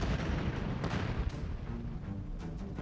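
German cannons fire in a World War II battle at El Alamein, rendered as a dense, continuous barrage of heavy booms and sharp gunshot cracks with no pause.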